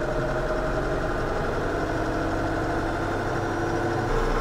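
A Landini 5-120 tractor engine runs steadily as the hand throttle raises its revs, a loud, close, continuous mid-to-low engine drone with no talk over it.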